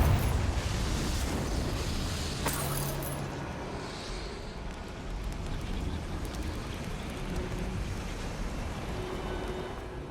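A Confringo fire-spell explosion in Hogwarts Legacy: a loud broadband blast with a sharp burst of impact near the middle, then a rumbling, crackling tail that holds steady for several seconds, with no talking.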